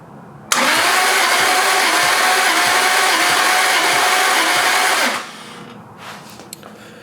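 A turbocharged Lexus IS300 inline-six cranks over on the starter during a wet compression test, a loud, steady rhythmic chugging that begins abruptly, runs for about four and a half seconds, then stops, leaving a quiet garage.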